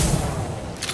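Geth shotgun blasting in Mass Effect 2, one loud, dense boom that fills the whole second with heavy low thump and wide noise, close and forceful with no voice.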